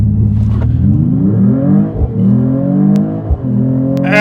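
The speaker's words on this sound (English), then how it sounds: "let's try to use the race start" A 2025 Mercedes-AMG E53 hybrid launches hard in race start mode, its engine note climbing loudly through rising pitch sweeps with two brief dips at gear shifts before pulling again, close and continuous without talking.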